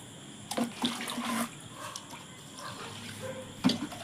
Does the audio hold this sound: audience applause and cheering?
no